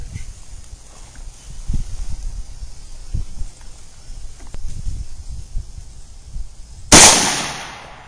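A single loud handgun shot cracks out sharply near the end, fired at an IPSC target 25 yards downrange from a bench, with low rumbling handling noise and faint background movement before it.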